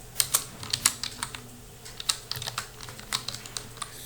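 Rapid keystrokes on a computer keyboard while a name is typed into an HTML table, clicking in quick uneven bursts with brief pauses, close and fairly clear.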